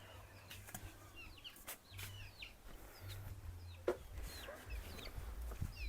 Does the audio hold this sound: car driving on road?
no